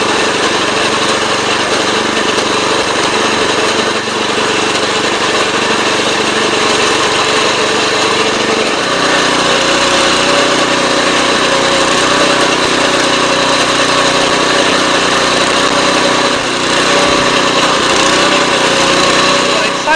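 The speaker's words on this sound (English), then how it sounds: "So let's continue to mow." A self-propelled lawn mower cuts grass with a loud, close engine drone that continues unbroken for the whole stretch, its tone shifting slightly partway through as the load changes.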